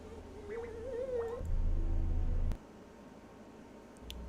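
A cat in a video game gives a drawn-out, wavering meow at moderate volume, followed by low ambient rumble and a couple of faint clicks.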